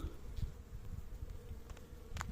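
Honeybees buzz over capped comb in an opened two-storey hive, a steady low hum running throughout at moderate closeness, with a few brief brighter rustles near the end.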